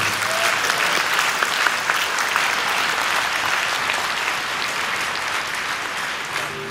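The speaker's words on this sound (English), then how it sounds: "Now you can clap." An audience at a 2011 Hong Kong talk claps steadily and densely throughout, a sustained wash of applause from a large crowd with no voices over it.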